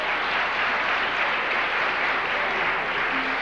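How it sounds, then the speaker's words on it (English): Steady, dense applause from a large audience at a celebration-of-life event honoring a game show host, filling the whole moment with a continuous wash of clapping and no talk. "He heard the applause and he just lit right up."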